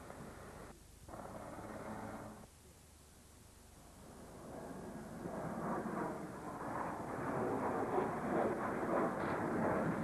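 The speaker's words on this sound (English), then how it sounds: "Här kommer uppvisningsflygplanet Boeing Störman." A Boeing Stearman display biplane flies at a military airbase airshow, its engine drone swelling from faint to a louder, sustained rumble as it approaches.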